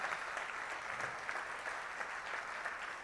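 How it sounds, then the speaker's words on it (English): Audience applauding steadily for railway engineers, a dense even wash of clapping with no talk over it. "Give a big round of applause for all the engineers."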